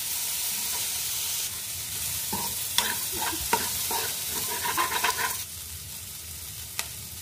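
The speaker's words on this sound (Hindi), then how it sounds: "देखो जी सब्जी का पक रही है" Vegetables sizzling and frying in a pan for masala noodles made with desi ghee, with a steady hiss broken by clattering stirs and scrapes through the middle, then a quieter sizzle.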